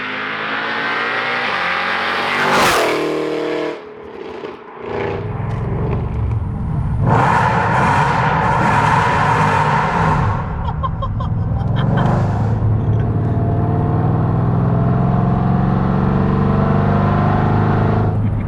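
A loud supercharged 700+ bhp Mercedes C63 AMG engine revs hard and roars, climbing through repeated bursts of acceleration, with a high supercharger whine running over the deep rumble.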